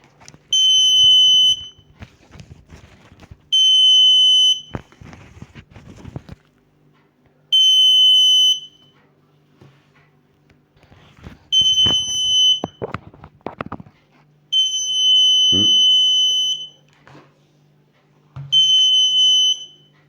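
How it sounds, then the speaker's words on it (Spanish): A high electronic alarm from a motion sensor on a 230 V lamp sounds in six separate bursts of a second or two each, with rustling and clicking movement noises in between. "Cualquier movimiento que yo haga, suena el sensor."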